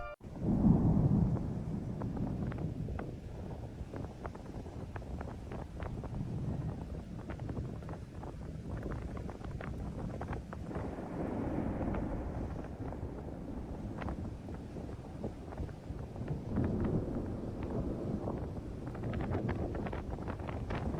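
A storm with strong wind roars and buffets the microphone in continuous gusts, with low rumbles and rattling bursts throughout, loud and close, and no one speaking.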